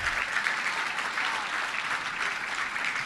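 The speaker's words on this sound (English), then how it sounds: "Worth a round of applause." An audience at a Little Rock Touchdown Club luncheon gives a sustained round of applause, a dense, even wash of many clapping hands that holds steady throughout.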